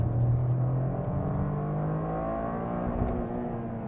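A Toyota GR Corolla accelerates out of a corner during track testing, its engine droning loudly and steadily with rising and falling harmonic tones and no voices over it.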